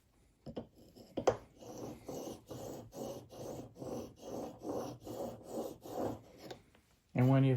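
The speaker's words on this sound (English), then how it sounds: "to be able to sharpen this chisel" A steel chisel is worked back and forth on a sharpening stone in a rolling honing guide, giving a steady series of rhythmic rasping strokes, close and fairly quiet, ending in a louder knock.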